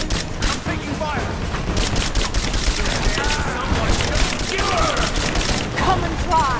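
Rise of the Tomb Raider combat: a constant crackle of rapid gunfire with overlapping shots and bursts, loud and busy throughout, with people talking over the fighting.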